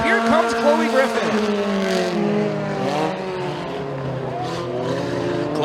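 Kids mini stock race cars roar around the McKean County Raceway dirt track, engines droning and revving with tire noise as cars pass, heard under a continuous announcer's commentary.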